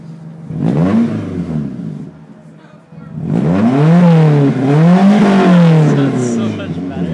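Engine of a 1995 Toyota Celica GTS with no exhaust revving hard, one short rev followed by a longer rising and falling run, loud and raw, close by.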